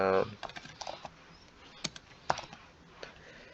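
Several light computer keyboard key taps, scattered and irregular, at close range and fairly quiet, with a brief spoken sound at the very start.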